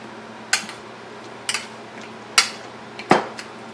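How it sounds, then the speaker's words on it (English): Boiled vegetables for pav bhaji are pressed down with a masher, four separate sharp thuds against the pot spaced about a second apart, close and alone over a low steady hum. "I'm mashing all these boiled veggies together."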